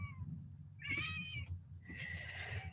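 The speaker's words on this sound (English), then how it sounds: "She meow like when she sees some birds." Cat meowing in a sequence of two drawn-out, chirpy meows over a low background hum, close and fairly soft with no talk.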